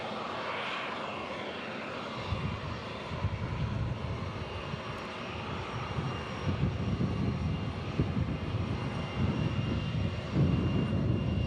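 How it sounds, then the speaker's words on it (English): A Mesa Airlines United Express airliner arriving at Omaha Eppley Field, its engine roar swelling after a quiet start and holding as a broad, steady rumble at moderate distance, with no talk. "Our next arrival will be Mesa Express, or Mesa Airlines United Express flight"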